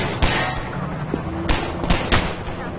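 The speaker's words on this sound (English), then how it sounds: "Stop shooting at me, you assholes" Enemy gunfire in Half-Life 2: a few loud separate shots with sharp broadband cracks, spaced irregularly over a steady background of game noise, with no talk.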